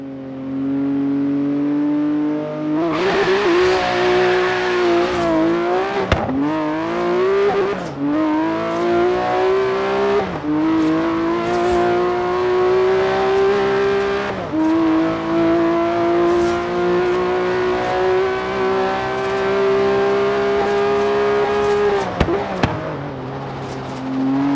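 A boxer-engined car driven in Forza Horizon 3 roars loudly and steadily, its engine pitch climbing through gears with brief dips at shifts and occasional tire noise, with no talking.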